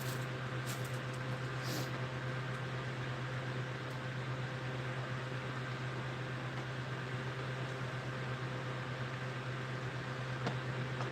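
A G3 vacuum cleaner runs with a steady, unbroken motor drone and a low constant hum, moderately loud and close, with no talking over it.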